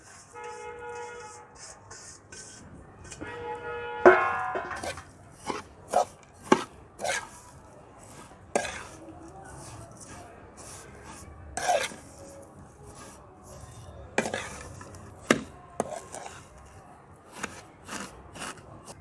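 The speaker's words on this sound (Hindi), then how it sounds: "अब ये सेवइयाँ हम इसमें डालेंगे और इनको 2 मिनट तक इनकी बनाई कर लेंगे इसी तरह हल्की आंच पे।" Vermicelli roasts in hot ghee over low heat while being stirred, giving repeated sharp scraping and clattering strokes of a utensil against the pan at an uneven rhythm, close and fairly loud, with no talking.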